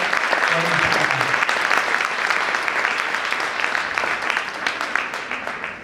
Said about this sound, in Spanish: Así que les voy a pedir un aplauso para Mari, para Flavio, para Rodo